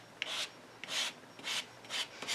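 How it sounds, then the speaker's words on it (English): Palette knife scraping shimmer paint across a craft box, four rhythmic rasping strokes of roughly even length, close and fairly quiet, with no voices. "I'm just using this palette knife to kind of scrape this all over the box"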